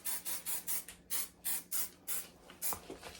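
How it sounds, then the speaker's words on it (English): Finishing hair spray misted over freshly done knotless braids in a series of short, crisp aerosol bursts in a quick uneven rhythm, close and fairly loud with brief pauses between sprays. "I'm just adding the finishing spray"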